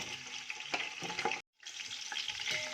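Onions fry in oil for chicken yakhni pulao, a bright sizzle broken by stirring clatters and a brief silent cut in the middle.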